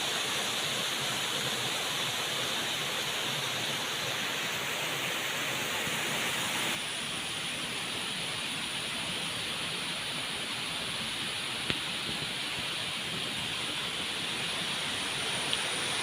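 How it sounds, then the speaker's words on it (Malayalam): Ambanoli waterfall roars in a constant, dense rush of falling water, close and loud throughout, steady without pauses and with no voices over it. "ഇപ്പോൾ ഈ കാണുന്ന വാട്ടർഫാൾസും നല്ല അടിപൊളി വാട്ടർഫാൾസ് തന്നെയാണ്"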